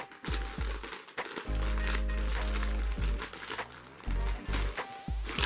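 A Chipsters grilled-meat flavoured crisp packet, 120 grams, crinkles and crackles as it is handled, with loud plastic rustling bursts throughout, close up.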